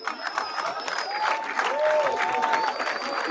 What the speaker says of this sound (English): Those claps and hoot and hollers were from the white folks